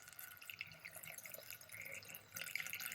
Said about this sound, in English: We will continue to fill this with distilled water because we're only doing the cleaning portion now.